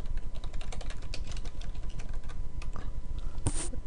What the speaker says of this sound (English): Oops, I'm trying to type too fast.